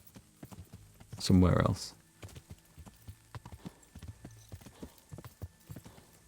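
Horse hooves clip-clop at a steady riding rhythm in the medieval role-playing game Kingdom Come: Deliverance, with a brief whinny-like burst early on and someone speaking briefly over the hoofbeats.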